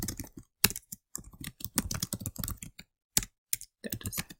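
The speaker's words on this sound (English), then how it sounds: "Sometimes I'll be typing too fast." Quick bursts of clicking keystrokes on a computer keyboard, typed close and fairly quiet, with short pauses between runs.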